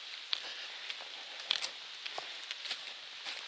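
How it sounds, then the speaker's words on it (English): Light rain pattering on leaves along a hiking trail, soft scattered drops ticking faintly and irregularly over a quiet hiss, close and gentle, no voices. "it got started raining again, but it's just a light rain"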